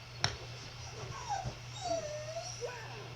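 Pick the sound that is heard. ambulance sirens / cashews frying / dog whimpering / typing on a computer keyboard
dog whimpering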